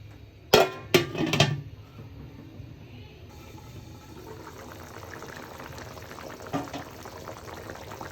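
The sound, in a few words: fish curry broth boiling in a covered pot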